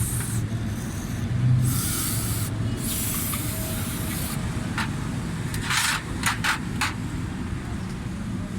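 Cleaner spray hisses onto the engine of a Japanese Suzuki Alto 660cc, coming in several short bursts of varying length over a steady low background hum.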